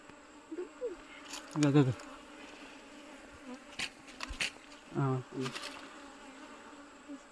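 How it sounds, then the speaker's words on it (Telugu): Honey bees swarm around a wild honeycomb in a farm field, giving a continuous close buzzing drone throughout while a person talks intermittently nearby. "ఈగలు ఎలా ఉన్నాయో"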